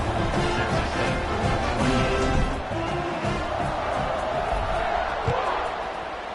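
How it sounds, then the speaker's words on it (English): Dense stadium crowd roar at a college football game between JMU and Texas State, a steady loud buzz after a touchdown as the teams line up for the kickoff, with whoops and shouts rising above it throughout. "this crowd is buzzing after that last score"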